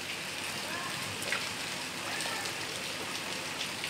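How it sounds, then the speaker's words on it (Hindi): Heavy rain falls in Allahabad, a steady broadband hiss of drops on surfaces that holds at an even level through the whole stretch, with no voices. "और काफ़ी अच्छी बारिश हो रही है।"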